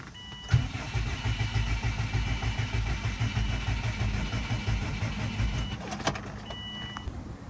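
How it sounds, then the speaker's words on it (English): A 2004 Subaru Forester XT engine cranking over steadily on the starter for several seconds, a continuous churning rumble with a sharp click at the start, fairly close and with no voices. "let's see if she'll crank now"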